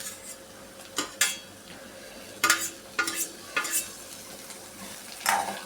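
Tomatoes tipped into a pan of sautéing onion, giving a soft, steady sizzle under a series of sharp spoon and pan scrapes and clinks spaced through the moment.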